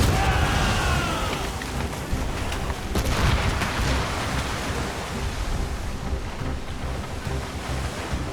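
Ship cannons firing in Assassin's Creed Rogue, heard as heavy booms buried in a constant loud wash of ocean surf and wind at sea, with brief shouted commands near the start.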